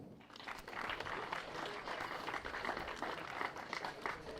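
Applause from spectators scattered around a race track during a CRKC 2026 heat, a dense, steady wash of many clapping hands at a distance, holding for several seconds without voices.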